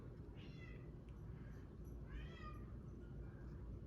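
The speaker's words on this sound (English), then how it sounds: "Don't mind the cat in the background." A cat meows twice in the background, two drawn-out calls about two seconds apart, faint against a steady low room rumble.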